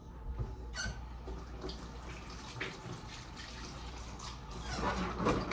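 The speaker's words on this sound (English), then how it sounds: "Let me rinse my hands off." Tap water runs steadily into a sink while hands are rinsed under it, a soft continuous splashing that swells slightly near the end.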